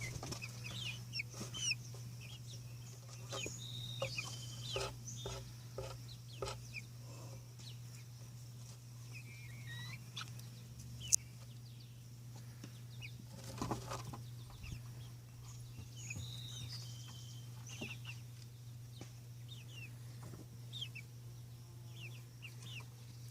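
Chickens clucking around a PVC chicken feeder outdoors, soft scattered clucks and murmurs over a steady low hum, with one sharp tap midway.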